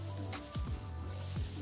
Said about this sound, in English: mix your chicken through that paste as it's kind of sizzling away